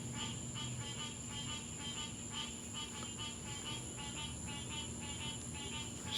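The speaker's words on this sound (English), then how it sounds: "There go the frogs." A steady night chorus of frogs calling in a rapid, pulsing trill that repeats over and over at moderate distance, with a faint high insect whine above it and no talking.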